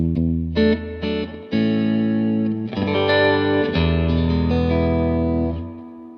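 Clean electric guitar chords ring out through a Lincoln amp's clean channel with blackface Fender-like roundness, warm and round with some reverb, a few short strums then longer sustained chords, no voices.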